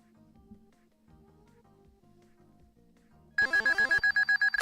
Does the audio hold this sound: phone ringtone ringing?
yes